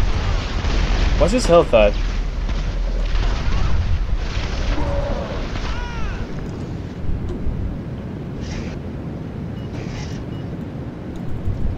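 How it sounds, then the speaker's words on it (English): Jericho missiles exploding in the GTA 5 video game, with heavy booming blasts over a steady low rumble that fade toward quieter crackling, as someone talks over them. "Yep, more Jericho missiles."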